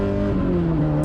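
A 2003 Miata race car fitted with a 2.4L Ecotec engine accelerating on track, a loud steady engine drone with rising tonal harmonics heard from close by, alone.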